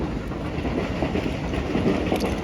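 A train passes at a Japanese railway crossing near a station, a steady loud low rumble with faint rail clatter and wind buffeting throughout, no talk.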